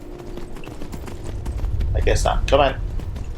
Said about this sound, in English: Let's go all-terrain horse.